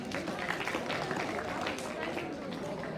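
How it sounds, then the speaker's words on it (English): An audience at a school conclave applauds a presenting student team, a steady dense patter of clapping from many hands that holds evenly throughout, with some voices mixed in. "Can we please have a huge round of applause for them?"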